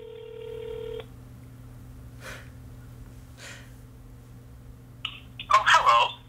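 A telephone call is being dialled: a steady tone sounds for about a second, then quiet breathing, then a loud cluster of dialling tones near the end.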